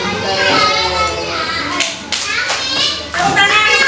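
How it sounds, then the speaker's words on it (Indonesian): Children clapping their hands in a classroom, a few bursts of claps amid children's chatter and a teacher's voice, fairly close and uneven in rhythm. "tepuk tangan, Gibran."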